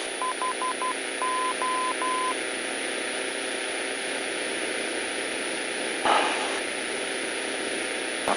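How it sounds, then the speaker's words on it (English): Morse code identifier of a VOR navigation station on an aircraft's nav radio: a steady tone keyed in short and long beeps for about two seconds, then a continuous tone over radio static and hiss, with a brief crackle near the end. "I don't know the Morse code, but at least I know it's a VOR station"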